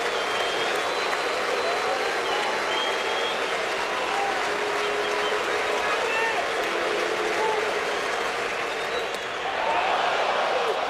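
A large baseball stadium crowd roars steadily at a 2007 ALDS playoff game between the Yankees and Indians, a dense continuous swell of cheering that lifts again near the end, with an announcer's voice over it.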